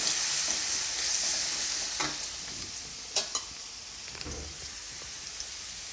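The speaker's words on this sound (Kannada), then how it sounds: "ಬೆಳ್ಳುಳ್ಳಿ ಮತ್ತು ಶುಂಠಿ ಪೇಸ್ಟನ್ನು ಹಾಕ್ಕೊಂಡಿದ್ದೀನಿ" Ginger-garlic paste fries in a pan for paneer masala, a soft, steady sizzle close by, broken by a couple of sharp utensil taps and light stirring.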